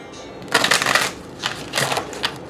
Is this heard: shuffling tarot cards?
yes